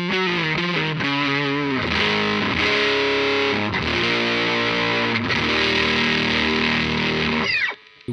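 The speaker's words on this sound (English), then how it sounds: "there is this Screddy Rover Fuzz, which is a tone bender clone. Sounds like this." Electric guitar through a Screddy Rover Fuzz pedal, a Tone Bender clone, plays a thick, heavily distorted lead line of sustained and bending notes, close and loud, ending with a quick slide before falling silent.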